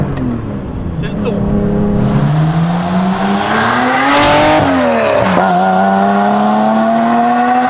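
A Porsche 911 restomod by Machine Revival with a 3.2-litre engine drives hard, its loud close engine climbing through revs, dropping on a gearshift, then pulling up again.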